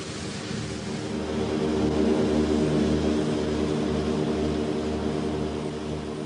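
A Catalina flying boat drones in flight on a long wartime journey, a steady, loud propeller-engine hum with a throbbing low rumble sustained throughout and no voices.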